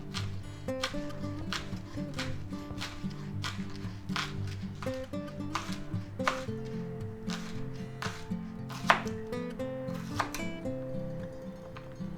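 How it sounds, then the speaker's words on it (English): A knife chopping green onions on a cutting board, with a fast run of sharp, evenly spaced taps all the way through over a steady low background hum. "now we're just going to go ahead and cut up some green onions. Chop them up"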